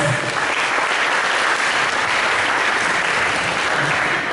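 Sustained applause from a talk show audience, steady and fairly loud throughout without a break.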